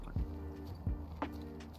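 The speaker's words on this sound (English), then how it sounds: "I'm not sure if I heard footsteps to the left." Footsteps in the State of Anarchy game, three muffled thuds spaced about a second apart over a steady low game ambience, close and moderately loud.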